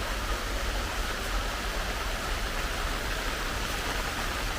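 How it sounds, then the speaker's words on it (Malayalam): Light rain drizzles outside, a constant even hiss of falling drops with no other sounds. "ഇപ്പോൾ വീണ്ടും മഴ ഏകദേശം ചാറുന്നുണ്ട്."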